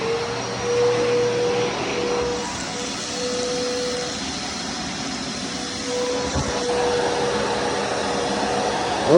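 A vacuum cleaner runs continuously while clearing a floor being prepped for self-leveling float mix, a steady broadband roar with a thin whining tone, moderately loud and close, with no talking.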